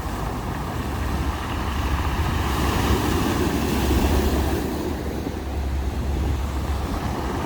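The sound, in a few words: ocean waves breaking against a seafront wall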